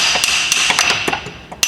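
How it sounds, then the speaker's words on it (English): Several sharp metallic taps of a small hammer on a rusted CV axle of a VW Passat or Audi, at irregular intervals, close by, over a steady hissing background. "we're just going to get a small hammer and try to hit it to get it"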